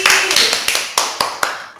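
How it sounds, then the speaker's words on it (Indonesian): A second-grade classroom of pupils claps for a classmate called to the front: a brisk burst of scattered hand claps, close and lively, tapering into a few last sharp claps. "Ya, tepuk tangan untuk Mbak Balali."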